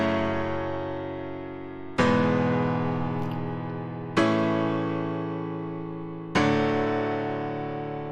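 Four sustained chords made in FL Studio, each struck at regular two-second intervals and slowly ringing out before the next, open and full in tone, no talking.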